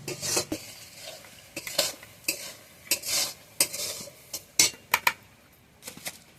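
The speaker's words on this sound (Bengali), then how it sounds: "আস্তে আস্তে মিক্সি জারের মধ্যে সুজিটা ঢেলে নেব।" Semolina poured into a mixer jar while making Janmashtami naru sweets, giving a run of soft rattling, scraping and clinking bursts at close range, with no talking.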